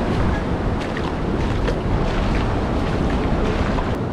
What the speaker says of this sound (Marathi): लाटा पूर्ण वरती उसळत आहेत